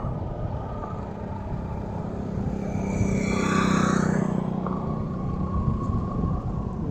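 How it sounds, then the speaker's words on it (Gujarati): A black Scorpio SUV passes on a rain-wet highway near Radhanpur beside a Narmada canal, its broad road rumble swelling toward the middle and easing off, steady and moderately close, with no talk over it. "એક સ્કોર્પિયો આવેલો જુઓ મિત્રો"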